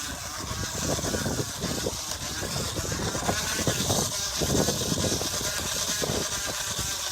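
A plastic water bottle wedged against a spinning bicycle tire gives a steady, buzzing, engine-like drone, much like a small motorcycle. The noise is loud and continuous throughout, with no clear talk over it.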